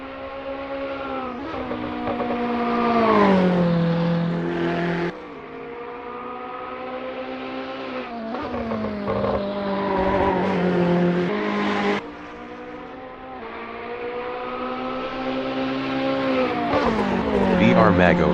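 Porsche 911 GT3R race car engine in a GT3 racing video game at Brands Hatch, loud and continuous with rising and falling pitch through gear changes, sharp drops at shifts, heard steadily throughout.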